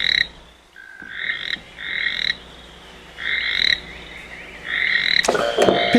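A toad croaks in a series of loud, nasal, buzzing calls repeated every second or so, with a short sharp clatter near the end.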